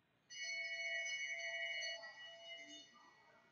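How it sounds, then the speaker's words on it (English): Bell rung for the bell lap at a men's 1,500 m speed skating race on an indoor oval, a clear metallic ringing held for about two seconds then fading, fairly faint in a quiet hall. "we have the bell lap for our first pair now"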